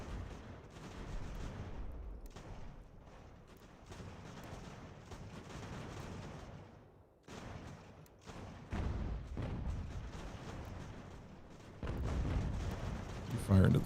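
Cannon fire rumbles in the Revolutionary War strategy game Ultimate General: American Revolution, as low booms and volleys roll over a steady battle din, with someone talking throughout.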